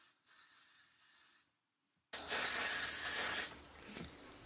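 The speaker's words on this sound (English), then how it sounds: "you can spray along the part with your hairspray to make sure that you don't get any flyaway hairs" Hairspray is sprayed along a hair part: a single close, loud aerosol hiss lasting about a second after a short quiet stretch, followed by softer rustling.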